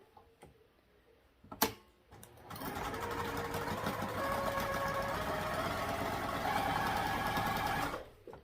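A sewing machine runs in a continuous stitching burst after a brief click, sewing a straight 3/8 inch seam along a zipper, its rapid mechanical rhythm steady and close until it stops.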